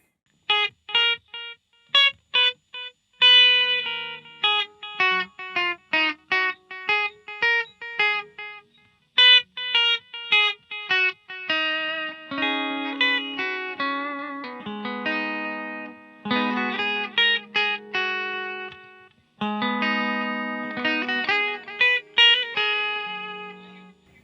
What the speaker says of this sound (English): We've got just the delay. Pretty nice. Like dotted kind of delay.